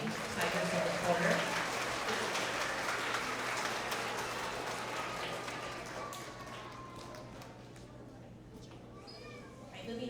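Audience applause at a kindergarten-to-second-grade school award assembly, starting fairly full and gradually thinning into scattered claps, with some voices and movement in the room as it dies down.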